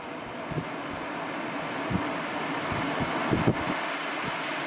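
Levoit Large Room Pro HEPA air purifier running on its highest fan speed, a steady soft whooshing airflow hum with faint low thumps and no voices.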